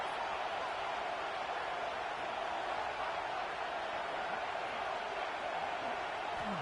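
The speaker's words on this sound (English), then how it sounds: "This crowd bringing the energy and noise early." A large stadium crowd roars in a constant, distant wash of cheering and noise, steady throughout with no pauses.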